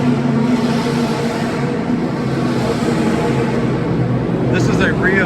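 Loud, continuous engine roar from a Shelby Cobra R model race car, one of 37 built for racing, steady throughout at a car show event, with a brief higher whine near the end.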